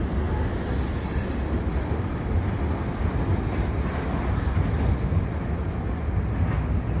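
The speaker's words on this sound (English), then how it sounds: "there comes the end of the train." A CN mixed freight train rumbles steadily past nearby, with continuous wheel noise and a faint high metallic squeal throughout, no voices.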